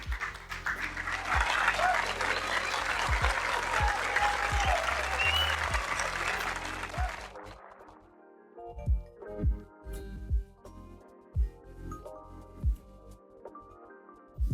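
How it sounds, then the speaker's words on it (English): A conference crowd applauds panelist Walter Bosman with loud, sustained clapping for several seconds, then it stops abruptly, leaving scattered footsteps and faint room sounds. "a warm round of applause for our last panelist on this session, Mr. Walter Bosman"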